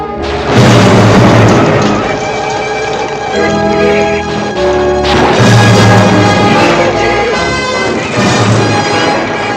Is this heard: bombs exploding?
yes